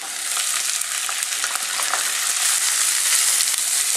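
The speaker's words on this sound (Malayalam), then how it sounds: "ഇനി ഇതിലേക്ക് നമ്മൾ അരിഞ്ഞു വെച്ചിരിക്കുന്ന പച്ചക്കറികളെല്ലാം ചേർക്കാം" Chopped carrot, green peas, cauliflower and beans sautéing for fried rice, a loud bright hiss of frying with quick stirring clatter, close up and unbroken, no talking.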